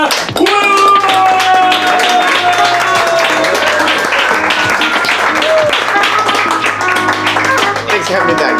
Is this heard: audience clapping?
yes